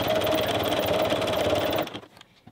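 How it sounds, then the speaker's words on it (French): Sewing machine stitching a crotch seam and topstitching on trousers made from old bed sheets, a loud steady mechanical whir for about two seconds that cuts off abruptly into a faint tail. "J'en ai profité pour coudre l'arrière au niveau de la fourche et venir faire 2 surpiqûres."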